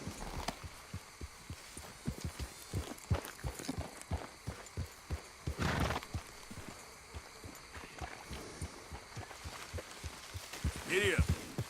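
A horse trots steadily in Red Dead Redemption 2, its hooves landing in an even rhythm of soft thuds over the full stretch, with some voices and game ambience mixed in near the end.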